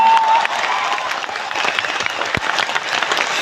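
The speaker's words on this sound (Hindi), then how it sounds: "बापू सभागार की इस पवित्र भूमि से दशरथ मांझी के लिए जोरदार तालियां बजनी चाहिए" A large crowd in an auditorium hall in Patna at a grand meet-up claps loudly and continuously, dense applause with a faint cheer mixed in.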